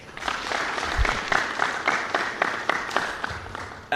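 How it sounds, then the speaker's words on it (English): Audience applause at a public governance debate forum, a steady wash of clapping from a seated crowd that runs the full length with soft, irregular individual claps standing out. "A big round of applause for yourselves."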